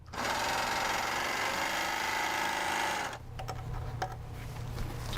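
A sewing machine runs steadily at a constant speed for about three seconds, stitching normally with no gathering, then stops and leaves a few soft clicks and handling noises close by.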